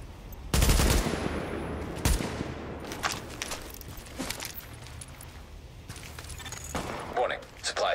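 Gunfire in a video game, with several loud broadband bursts striking in-game supplies amid a busy game soundscape, spaced irregularly over the clip, with some speech present.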